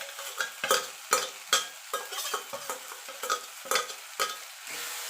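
A spoon works bean mash mixed with fried dried chillies and onion around a pan, making rhythmic scraping strokes about twice a second over a faint sizzle, with no voices.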